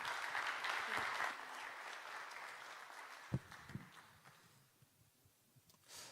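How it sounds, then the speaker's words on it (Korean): Church audience at a youth Holy Saturday service applauds to welcome the preaching pastor, a broad wash of clapping for about three seconds that fades to a faint patter, with a couple of louder thumps midway. "박수로 환영하겠습니다."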